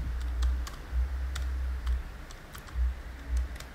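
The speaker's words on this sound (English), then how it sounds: "let's type this." Someone types on a computer keyboard while working in CorelDRAW, a quick run of light, crisp key clicks with occasional heavier thumps, fairly close and moderately quiet, with no voices.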